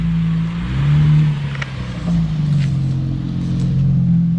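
An Infiniti Q60 sports car's engine revs nearby, a loud low rumble that swells twice and settles back between blips, with no talking.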